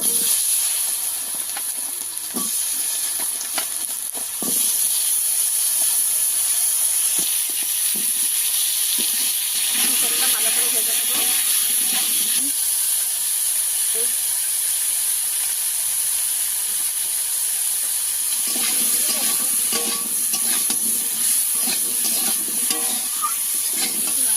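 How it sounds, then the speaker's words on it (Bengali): Malabar spinach frying in a pan gives a continuous hissing sizzle with intermittent scraping and stirring clicks, close and fairly loud, with no talk. "শাকগুলোকে ভেজে নেব"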